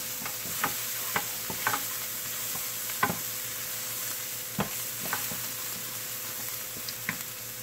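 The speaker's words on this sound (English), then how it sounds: "those are red onions. I'm gonna kind of saute that." Red onions sauté in a hot pan for chicken piccata, a steady low sizzle broken by sharp clicks and taps of a utensil stirring against the pan at irregular intervals.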